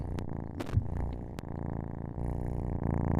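A domestic cat purrs close up in a steady rumbling rhythm of rapid pulses, broken by a couple of small clicks and shifts, with no talking over it.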